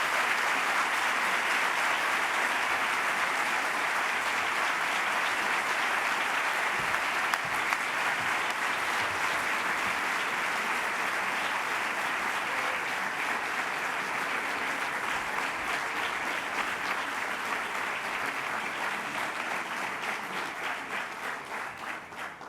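Dense, sustained applause from a large audience in a lecture hall after a talk by Mario Vargas Llosa, steady for over twenty seconds before slowly thinning.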